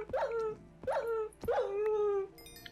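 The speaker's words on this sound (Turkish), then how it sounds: "Ve köpek sesi çıkartıyormuş." A creature in a modded Minecraft game gives three dog-like barking yelps in a row, each trailing into a whine, clear and fairly close, with a faint game tone afterwards.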